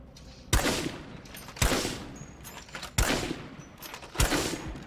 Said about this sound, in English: So I bring out Zana with the 50 caliber Timberwolf anti-material rifle